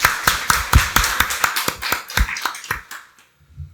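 A church congregation at a Sunday worship service claps in unison, a close, rhythmic run of sharp claps about four per second that thins out and stops near the end.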